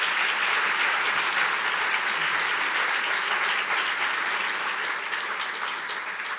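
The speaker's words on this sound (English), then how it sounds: "Please give them a round of applause." An audience at an art talk gives a dense, sustained round of applause with no talk over it. It fades a little toward the end.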